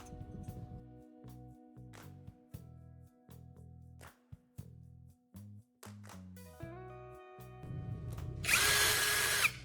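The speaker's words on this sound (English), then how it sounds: "I'm carefully drilling a hole right through the center mark I just made." A power drill whirs in short repeated bursts with pauses, then runs in a rougher, louder grind near the end as it bites through the center of a sharpening stone.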